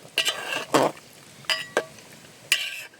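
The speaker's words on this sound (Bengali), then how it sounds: "দেখুন একটু নেড়ে চেড়ে দিচ্ছি" Chicken curry being stirred in a pot, a few distinct metallic scrapes and clinks of a spoon against the pot, spaced irregularly and close with quiet gaps between.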